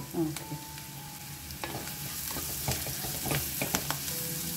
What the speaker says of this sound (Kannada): ಇಲ್ಲಿ ಈರುಳ್ಳಿ ತುಂಬಾ ಚೆನ್ನಾಗಿ ಹುರಿದಿದೆ